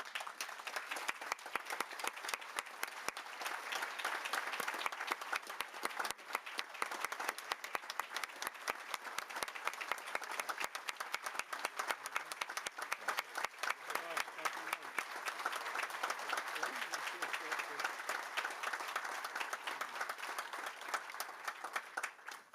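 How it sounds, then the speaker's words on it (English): Sustained audience applause at a large talk on care for the common home, following a speech by a cardinal; dense steady clapping throughout, moderately distant, with some voices audible beneath it. "that applause was so, so well deserved"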